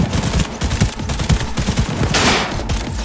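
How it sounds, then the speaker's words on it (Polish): Rapid bursts of automatic gunfire in the video game Cyberpunk 2077 crackle continuously, dense and loud, with a brief sharper blast near the end; no voices. "Krytyczny strzał w łeb."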